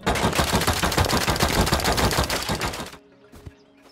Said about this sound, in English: I'll see if I can just pick them off with Silence AK.